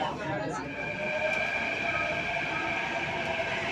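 Metro train ride toward Virar in light rain, a steady rolling rumble with faint high electrical whine throughout, heard from inside the carriage.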